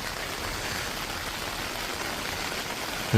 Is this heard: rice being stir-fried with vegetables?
no